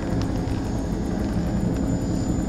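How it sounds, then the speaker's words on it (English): Helicopters fly over and land on a boat in the horror video game Man of Medan, a steady, loud rotor and engine drone filling the whole stretch without pause. "Helicopters."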